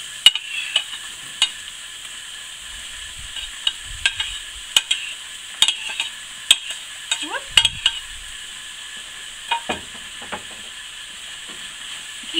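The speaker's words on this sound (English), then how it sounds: "we're going to add our onions and hear them sizzling" A steady hiss of onions sizzling in hot olive oil, with occasional clicks and scrapes of stirring in the pan.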